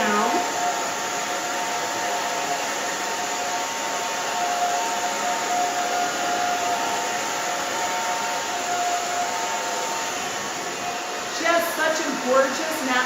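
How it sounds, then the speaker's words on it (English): A hair dryer blows steadily as hair is dried in a salon, a loud continuous whooshing roar with a faint whine held throughout, then handling noises near the end. "we're gonna dry this down"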